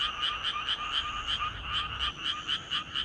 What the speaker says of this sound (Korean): 청개구리의 합창에 수원 청개구리 노래가 묻히고 맙니다